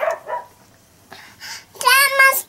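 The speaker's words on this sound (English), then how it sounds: "Elmo heard barking." A dog barks a few times in short bursts, with a voice talking in between and a louder vocal stretch near the end.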